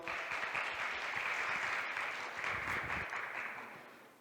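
An audience at a statistics workshop bursts into steady, full applause for a presenter that holds for a few seconds and then tapers off quickly.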